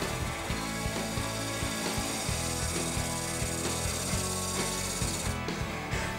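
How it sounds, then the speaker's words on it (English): A wooden piece for a desk organizer is turned on a wood lathe as light passes flatten its bottom, giving a steady, dense motor whir with rhythmic rubbing of the cut, continuous and close, with no talking. "if I gently hold it on the lathe, I should be able to take some light passes and flatten up the bottom"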